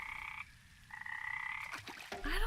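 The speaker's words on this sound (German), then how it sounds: "Dann möchte ich jetzt mit den Fröschen reden." Frogs croak from a pond in the Memoranda point-and-click adventure game, a steady repeating croak that pauses briefly and then resumes, followed by a louder burst of game sounds at the end. No talk is heard.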